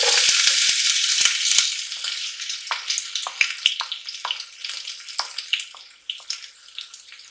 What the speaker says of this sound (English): When it heats, we are going to add our onions. So let's add in our onions.